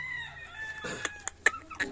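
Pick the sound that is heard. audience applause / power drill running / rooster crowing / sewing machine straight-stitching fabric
rooster crowing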